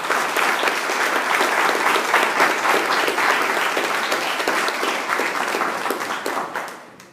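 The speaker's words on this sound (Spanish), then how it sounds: "Pueden darle un aplauso a Cristo." A church congregation applauds during a worship service, dense sustained clapping from a crowd filling the room, steady and loud before tapering off at the end.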